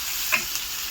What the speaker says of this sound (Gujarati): અને હવે નાખી દઈશું લસણ. અને આને કરી લઈશું થોડું સોતે